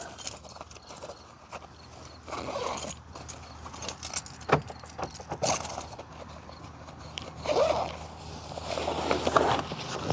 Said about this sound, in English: Put my keys in here.